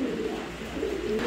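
Soft, continuous pigeon cooing from a pair of helmet pigeons kept for sale, a low rolling murmur that holds steady and close throughout the short stretch with no talking.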